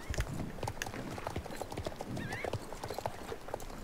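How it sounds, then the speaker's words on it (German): Horse in the video game Star Stable Online shying, with rapid clip-clopping hooves and a brief rising neigh, quiet and mixed with game background sounds. "Ich habe keine Ahnung, warum mein Pferd jetzt hier gerade scheut."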